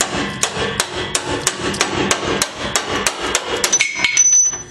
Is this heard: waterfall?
no